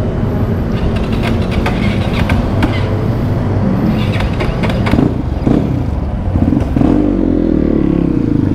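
A GasGas GE 250 supermoto motorcycle engine rumbles loudly up close, with clattering and a rise in pitch as it revs near the end.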